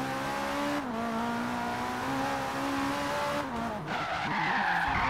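A car drifts during a two-lap race, its tires skidding and squealing in long sustained screeches over a loud, revving engine whose pitch rises and drops, close and continuous.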